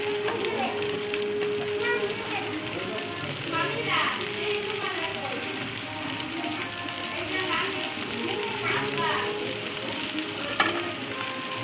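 Potatoes frying in a pan give a steady sizzle throughout, while children's voices and chatter carry on in the background.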